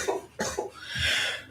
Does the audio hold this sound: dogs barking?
no